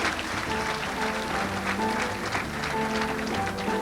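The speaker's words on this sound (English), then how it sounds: "they can hear your applause for thanking them this weekend" An audience at a Miss West Virginia USA pageant applauds the hostess chaperones, a full, sustained round of clapping over a soft musical hum from the stage.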